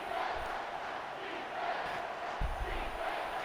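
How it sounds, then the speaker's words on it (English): Broad stadium crowd roar from the EA Sports College Football 25 video game swells steadily on a third down, a dense continuous wash of cheering with no distinct voices. "Third down, and the crowd really getting into it."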